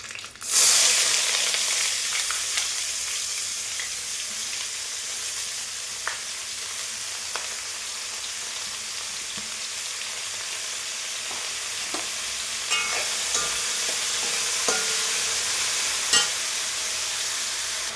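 Onion and garlic frying in hot oil in a pan for a carrot and beetroot stir-fry, a loud dense sizzle bursting in at the start and then holding steady, with a few faint clicks and taps, close and without talk.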